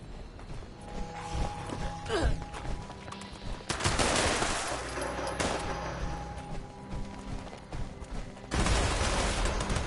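Gunfire in a Fallout video game: bursts of shots with mechanical clatter, quieter stretches between louder barrages near the middle and end, with no talk.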